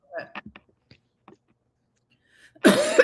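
A few faint clicks and soft sounds lead to a sudden loud, harsh burst like a cough near the end.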